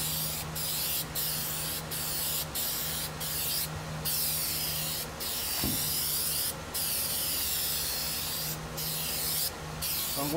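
Plasti Dip is sprayed in repeated short bursts onto a Buell XB9SX motorcycle tank cover. Each bursts is a sharp aerosol hiss, about a dozen over a low background hum.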